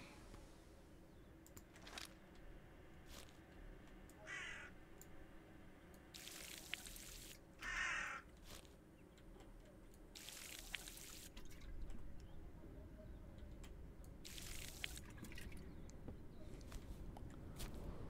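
In the farming game We Harvest Shadows, a watering can pours onto crops in several short, separate splashing bursts over a quiet background of faint game ambience.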